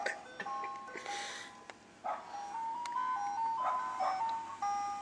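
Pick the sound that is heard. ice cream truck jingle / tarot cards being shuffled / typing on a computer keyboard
ice cream truck jingle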